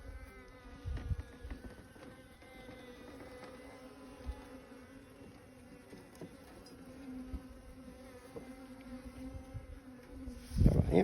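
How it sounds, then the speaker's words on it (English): Honeybees buzz around a hive frame being inspected outdoors, a continuous droning hum with a few louder passes close by, ending with a brief loud handling rustle. "Backside, we got a couple of bees on it"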